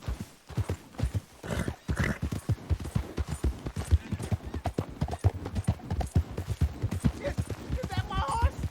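Rhythmic clip-clop of horse hooves trots steadily in the video game Red Dead Redemption 2, loud and close, with snorting and a brief whinny near the end.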